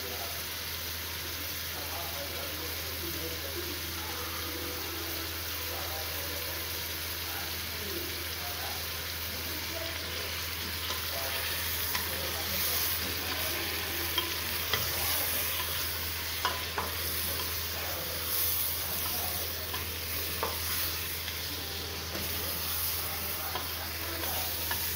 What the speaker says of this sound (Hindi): हम 2 से 3 मिनट के लिए भूनेंगे और उसके बाद फिर अगला स्टेप करेंगे।